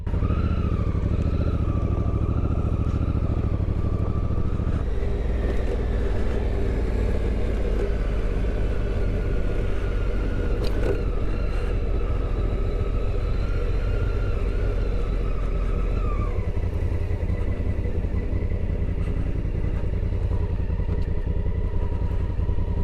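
Dirt bike engines drone and rev steadily across the open Alvord Desert playa as riders pull wheelies. A nearby engine hums throughout while pitch shifts and rising revs from the other bikes come and go.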